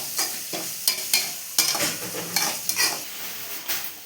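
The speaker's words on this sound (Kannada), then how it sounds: "ಅರಿಶಿನ ಹಾಕ್ಕೊಂಡು ಎಣ್ಣೆಯಲ್ಲಿ ಸ್ವಲ್ಪ ಬಾಡಾದ್ಮೇಲೆ, ಅಂದರೆ ಅದು ಸ್ಮೆಲ್ ಹೋಗೋವರೆಗೆ ಬಾಡಿಸ್ಕೊಳ್ಳೋಣ" Turmeric and spices frying in hot oil in a pan for a South Indian meal, with steady sizzling and repeated stirring scrapes and clinks of a spoon against the pan, close and clear with no talk.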